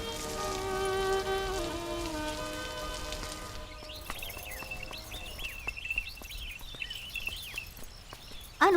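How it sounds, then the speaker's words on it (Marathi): Rain patters steadily on a surface, at first under a sustained musical tone, then alone with scattered drips and splashes and brief high bird-like chirps over the wash of falling water. "बरसणारा पाऊस"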